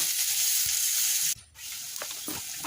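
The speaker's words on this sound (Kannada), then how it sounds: "ಈರುಳ್ಳಿ ಫ್ರೈ ಆಗ್ತಾಯಿದೆ, ಬೆಳ್ಳುಳ್ಳಿ ಹಾಕ್ತಾಯಿದ್ದೀನಿ" Chopped onions sizzle in a hot pan for a chicken fry, a bright crackling hiss that briefly cuts out, then resumes more softly with a few stirring clicks as garlic goes in.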